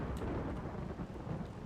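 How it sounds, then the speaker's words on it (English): Steady rain with a low rumble of thunder in the RimWorld video game, a dense, even wash of noise played quietly with no speech over it. "And there's the rain."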